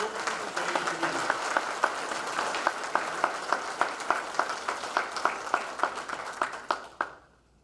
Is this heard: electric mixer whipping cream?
no